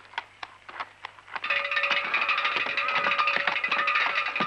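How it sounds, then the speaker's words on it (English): A dinner bell rings in a 1976 period television drama, sharp clangs starting sparse and then turning into a rapid continuous ringing that sustains, loud and near. "Dinner bell."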